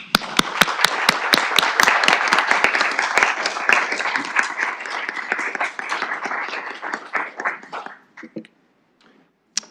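A small group claps in applause at a committee meeting, starting with sharp distinct claps then blending into steady clapping that thins out and stops.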